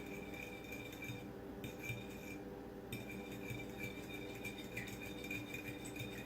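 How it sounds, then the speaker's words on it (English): An egg being beaten quickly with a utensil in a bowl while mixing it with milk for stuffed French toast, a steady run of rapid clinking and scraping strokes close up, with no talking. "Take 1 egg. I'm going to beat this together really quickly."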